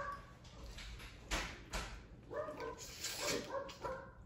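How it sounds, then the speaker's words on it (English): Several dogs bark and whimper indoors in short, uneven bursts, moderately near, while someone eats live blue crab; no speech over them. "Excuse my dogs."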